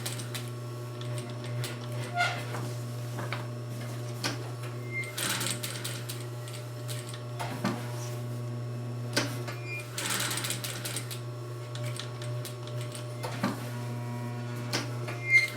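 A sewing machine stitching a durable reusable grocery tote bag, running in bursts of rapid rattling stitches with short pauses between them, heard close and without talk.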